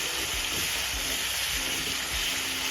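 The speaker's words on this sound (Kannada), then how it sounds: "ಅದು ಸ್ವಲ್ಪ ಫ್ರೈ ಆಗಲಿ." Chopped tomato fries in a pan with capsicum and onion, a constant close sizzle with occasional stirring scrapes.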